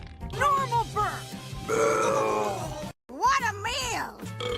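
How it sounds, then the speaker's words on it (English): A loud, voiced burp rolls out in a few croaking pulses, then a longer, rougher belch follows after a brief gap, with lively voices speaking around it. "Normal burp!"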